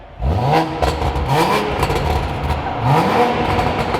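A widebody Toyota Supra revs loud and close, its engine note climbing in repeated rising sweeps over a rough, steady idle.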